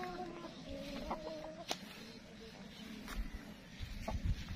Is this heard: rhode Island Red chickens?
yes